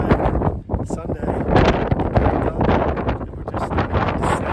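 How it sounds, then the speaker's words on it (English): Strong wind sweeps across Shepherd Pass in the high Sierra near Mount Whitney, buffeting the microphone with loud, gusty rumbles and rushes that swell and ease continuously throughout. "It's still windy."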